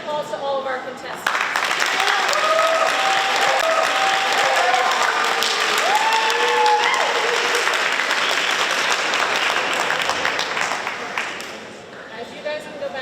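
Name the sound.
audience applause for contestants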